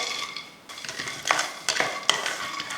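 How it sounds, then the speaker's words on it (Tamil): Peanuts dry roasting in a pan are stirred with a utensil, giving quick scraping and rattling scratches that rise in short bursts, close and moderately loud with no talk. "முதல்ல வேர்க்கடலை வறுத்துக்கலாம்"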